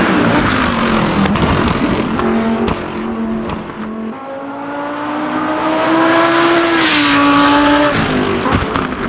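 Race car engines in the Assetto Corsa racing game scream continuously, pitch climbing and dropping through gear changes and revs, loud and close, with no talking.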